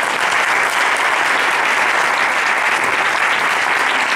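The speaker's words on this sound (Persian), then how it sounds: "خواهش می‌کنم تشویقشون بفرمایید." Loud, dense audience applause at a music school concert, honoring a female percussionist, sustained evenly throughout without any speech over it.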